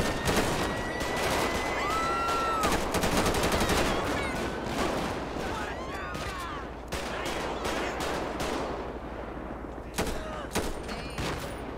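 Sustained gunfire in the police game LSPDFR: dense, overlapping shots and rapid bursts crackling without pause for about twelve seconds, loud and close, with whistling tones threading through the barrage.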